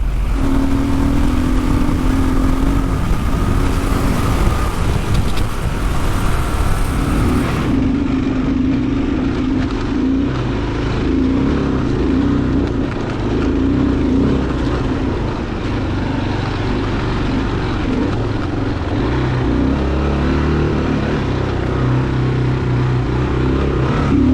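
A Kawasaki KLR650 motorcycle ridden off-road, its single-cylinder engine droning loud and near with shifting revs and wind noise throughout.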